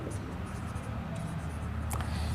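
Pen writing on paper during a maths lesson, a soft continuous scratching close by over a steady low background, no clear speech.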